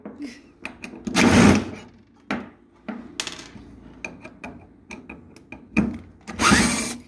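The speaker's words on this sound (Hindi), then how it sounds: "इसके बाद हमें ये 4 पेंच खोलने हैं।" Screws being undone on a Maplin VC90 hydraulic motor, with repeated short metallic clicks and ratcheting tool bursts close by, alongside a few louder whirring spells of a driver; someone talks between the bursts.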